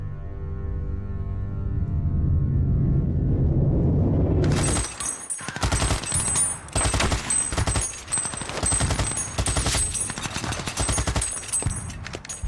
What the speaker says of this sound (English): They emerge from their trenches to face fierce German machine gun and artillery fire.